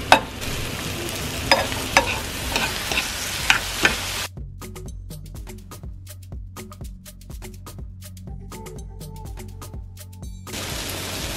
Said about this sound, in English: Just keep stirring it.